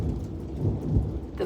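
Rain falling with a low rumble of thunder during a storm, a short steady wash of rainfall over deep rolling thunder, no voices.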